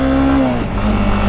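A Honda CBR 300R sport motorcycle's engine revs hard while riding, a loud, steady, buzzing tone that dips briefly mid-rise and then climbs again, heard close and alone with no talk.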